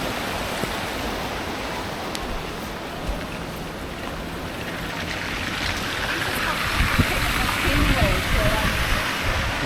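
River flowing past Gillside Farm in the Lake District, a steady broadband rush of water that grows slightly louder and rougher toward the end, heard alone without talk.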